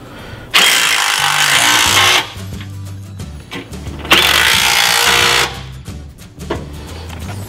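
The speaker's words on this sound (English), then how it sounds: "we'll go ahead and spin them on down to their final locations" Two long bursts of a power tool or impact driver spinning bolts down while mounting a JCR off-road bull bar, each roughly two seconds, loud and close, with brief quieter whirs and clicks between.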